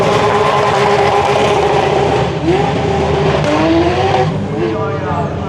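A Porsche flat-six rallycross car on a circuit howls close by, its loud engine note holding high and then dipping and climbing through gear changes, with a hint of tire scrub.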